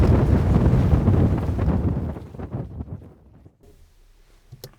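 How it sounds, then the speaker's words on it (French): A film sound effect mixing wind buffeting a microphone with a falling microphone: heavy, rumbling gusts that are loud at first, then thin out and fade, ending with a small sharp knock. "C'est un mélange de vent dans le micro et d'un micro qui tombe."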